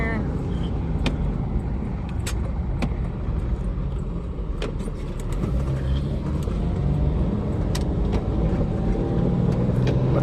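A car with a joystick-style shifter takes a turn on the road, its low engine and tyre rumble steady and close throughout, with some small knocks and clicks from inside the cabin.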